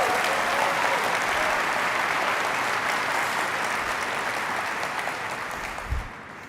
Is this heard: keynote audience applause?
yes